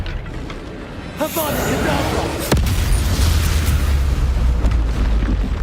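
A spell cast in the video game Hogwarts Legacy bursts out as a loud booming blast with a sharp crack near the middle, followed by a sustained low rumble; a voice speaks briefly before the impact.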